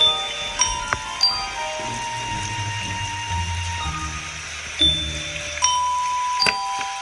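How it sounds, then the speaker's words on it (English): A doorbell chimes a short melody of bright, ringing tones, with a few separate strikes spaced across the moment and soft background noise. "She needs to ring the melody on bells."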